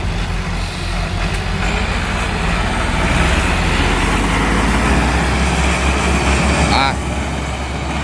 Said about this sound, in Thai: เพราะว่าเสียงเครื่อง เสียงเครื่องไม่ได้โหลดเลยนะครับ